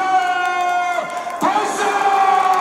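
Stadium crowd at a K League football match for Incheon roaring and cheering in a loud, sustained swell, with chanting voices and a sharp rising shout midway through.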